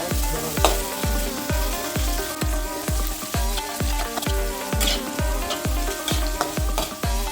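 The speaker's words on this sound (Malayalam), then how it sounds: "ഒരു ചെറിയ ചുവപ്പ് നിറം ആകുന്നത് വരെ ഉള്ളി ഒന്ന് നന്നായിട്ട് വഴറ്റിയെടുക്കുക" Onions sauté in a pan for a Kerala-style tuna fish head curry masala, a loud, close sizzle under quick regular scraping strokes of a spoon, about two per second and steady throughout.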